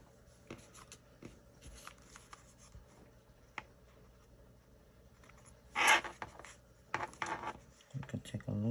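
Sharp scissors trim the edges of pages in a handmade paper-bound journal. The cutting is quiet, with a few soft paper rustles, then a crisp louder snip near the middle and several more snips and paper handling toward the end.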